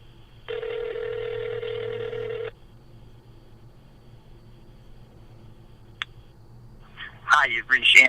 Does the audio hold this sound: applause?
no